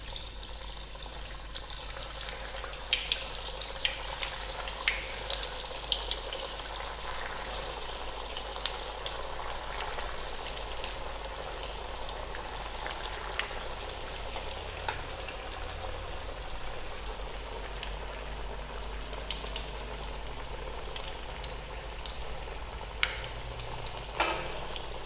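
Kothimbir vadi pieces fry in hot oil in a pan over a medium gas flame, a faint continuous bubbling sizzle with occasional small pops and clinks, no voices.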